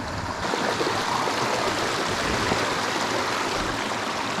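Fast-flowing water in a small wild brook trout stream, a continuous close rushing and gurgling over rocks that holds a steady, full level throughout.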